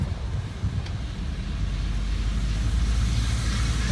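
A 1964 Ford Country Squire station wagon cruises along with a steady low engine rumble and road roar, while wind noise buffets the microphone the whole time.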